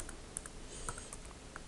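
Command being typed on a computer keyboard, a quick run of quiet, close key clicks in an uneven rhythm, faint and alone.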